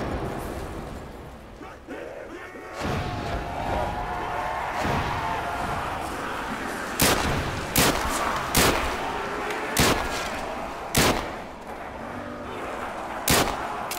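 Sharp, loud gunshots ring out in Call of Duty: World at War zombie survival mode on the Dawnville map, a series of single booming shots spaced a second or two apart over rumbling game noise, with a voice talking at times.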